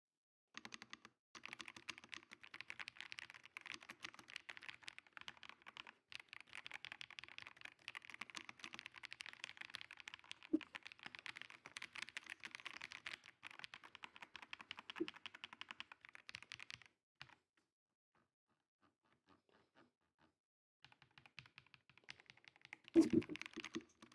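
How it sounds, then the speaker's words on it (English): Steady, fast typing on an Ajazz 820 Pro mechanical keyboard, close and clear, with dense keystroke clatter that stops for a few seconds, then resumes briefly with a louder burst near the end. "let's go and have a listen on how this keyboard sounds"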